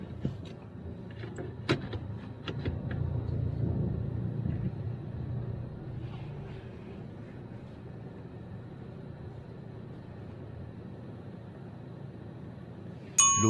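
A learner driver's car, engine already running, pulls away from a car park with a low, steady rumble inside the cabin, a few small clicks and knocks early on, and a brief sharp sound at the very end.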